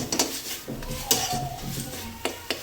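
A thick cooking paste is stirred and scraped in a pan, with sharp metallic clinks of a utensil against the pan and soft rubbing scrapes in between, close and irregular.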